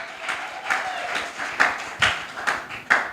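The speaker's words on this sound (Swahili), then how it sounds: "Pigia Yesu makofi ya bien." A church congregation claps for Jesus in rhythm, a series of roughly six sharp, evenly spaced bursts of clapping from a crowd, with a faint voice underneath.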